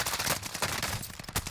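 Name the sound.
gunfire in the video game Warzone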